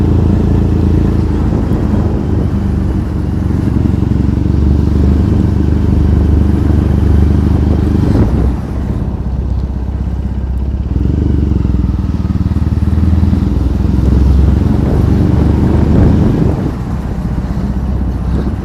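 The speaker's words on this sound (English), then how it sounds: "Getting more looks than usual with this bike today. The exhaust is a little bit obnoxious" A motorcycle with a loud, obnoxious aftermarket exhaust rumbles steadily while riding through Tokyo streets, engine drone and exhaust roar continuous and close with wind buffeting and slight swells in revs.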